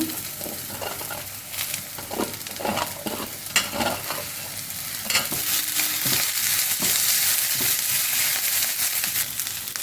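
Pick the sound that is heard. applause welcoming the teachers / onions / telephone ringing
onions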